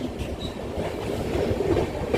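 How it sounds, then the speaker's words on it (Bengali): A passenger train from Kamakhya Junction to Siliguri Junction changes tracks near Gorumara National Park, its wheels beating a loud, steady clickety-clack over the points with a faint squeal. No one speaks. "ট্রেনটা ট্র্যাক চেঞ্জ করছে।"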